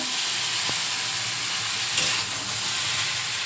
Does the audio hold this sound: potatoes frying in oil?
yes